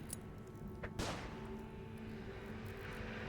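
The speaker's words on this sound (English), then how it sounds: "Flashbang." A flashbang grenade detonates in the video game Underrail, one sharp blast about a second in over a steady ambient game hum, with a brief fading hiss after the bang.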